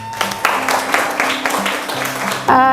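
Schoolchildren in a religious-education classroom clap in a quick rhythmic pattern, sharp claps spaced in a chant-like beat mixed with young voices, ending in a burst of cheering.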